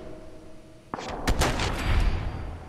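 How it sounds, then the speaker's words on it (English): Gunfire in the video game Fallout 4: a sharp shot followed by a burst of further loud reports and rumbling echoes, alone without talk. "Okay, shot his head off."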